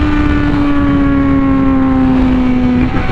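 Honda Fireblade RR-R SP motorcycle with an SC Project exhaust at high speed, a loud, steady engine howl with a held, slowly rising pitch and heavy wind rush, then an abrupt drop near the end.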